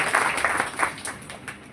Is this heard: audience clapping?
yes